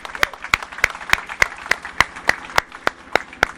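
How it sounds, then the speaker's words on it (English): Rhythmic audience clapping at an outdoor bridge dedication ceremony in Bucks County, a steady, evenly timed beat of sharp claps from a small crowd, close and loud with a faint murmur beneath. "So I'd like all of us to give a round of applause to Ed Preston."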